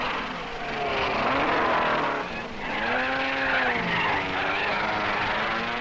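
Ferrari Formula 1 cars racing nose to tail at the 1961 Monaco Grand Prix: high-pitched engines rising and falling as cars pass, with tyre squeal and loud, near passes.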